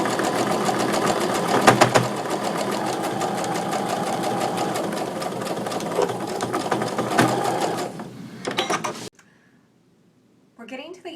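Sewing machine stitching quilt fabric for a block-of-the-month quilt block, a steady continuous mechanical whir with rapid needle rhythm running for about nine seconds, then stopping abruptly before a brief rustle.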